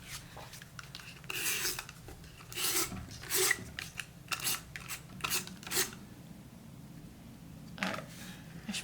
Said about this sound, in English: actually I'm gonna use my roller adhesive tape